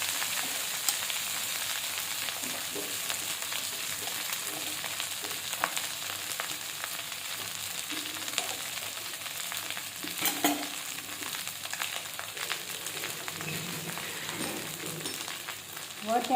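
Rice stir-fried with sautéed onion for Marathi-style leftover rice, a soft continuous frying hiss with occasional scrapes and knocks from stirring, fairly quiet throughout.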